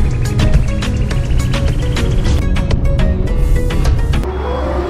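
A Tata Nano drives along the Samruddhi Mahamarg highway in rain, giving a loud, continuous rumble of engine and road noise from inside the car, with dense rain patter and sharp ticks on the body that ease off toward the end.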